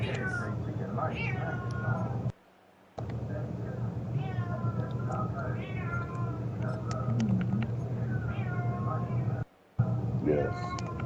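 A person imitates a cat with a series of drawn-out, wavering meows during a break in a football broadcast from Lucas Oil Stadium, repeated over several seconds against a steady low background hum.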